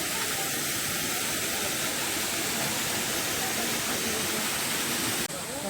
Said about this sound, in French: Ok, ça y est, on est aux cascades.